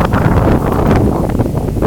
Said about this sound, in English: It's real windy.